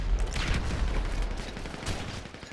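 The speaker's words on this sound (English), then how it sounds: "I'm using the AP pistol" Rapid AP pistol gunfire in GTA 5 Online: a dense, continuous stream of sharp shots from start to finish, loud and close, with no speech over it.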